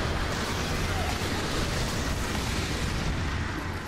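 A grenade detonates in the Fear 3 shooter, a dense, sustained roar of blast rumble with heavy low-end and crackle filling the whole stretch, loud and continuous with battle noise beneath.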